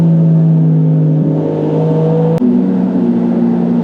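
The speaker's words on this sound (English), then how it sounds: "we might as well get rolling now while waiting" A BMW G82 M4 Competition drones steadily under load, loud and close from inside the car, its engine tone holding even and then stepping up after a brief break partway through.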